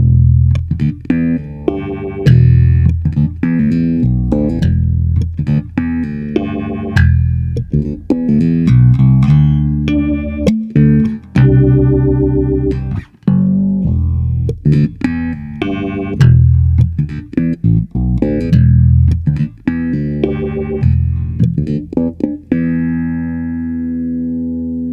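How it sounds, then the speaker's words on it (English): Bass guitar played through a Soundblox 2 Orbital Modulator effects pedal as its LFO speed is swept from a gentle wavy wobble toward a harsh ring-modulator-like tone, loud plucked notes with no voices. "to take it from a slow, kind of gentle, wavy sound to a more extreme, almost ring modulator kind of sound"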